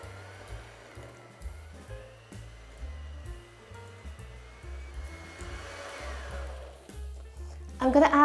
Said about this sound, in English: I'm going to mix this together now for a couple of minutes until it's nice and soft and fluffy.